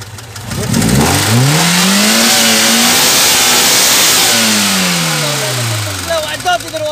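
A VAZ 2107 with a bored-out engine revs hard in two long swells, the pitch climbing and falling back each time, loud and close with a rough idle between bursts.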